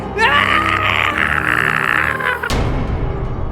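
The cartoon character Granny lets out a loud, strained scream lasting about two seconds before it cuts off abruptly into a burst of harsher noise.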